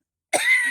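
A single sharp, close cough bursts out of silence, loud and abrupt, with a short raspy tail.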